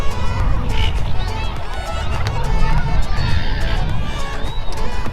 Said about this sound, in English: we can gather in crowds a bit like this